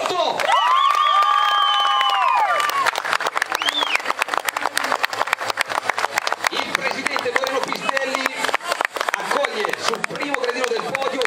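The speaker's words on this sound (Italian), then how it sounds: "voglio l'applauso per Giulia Miotto!" A crowd at a youth women's cycling race in Sant'Elpidio a Mare applauds and cheers for a rider amid a lively clatter of claps, while an announcer's amplified voice rings out over it at the start.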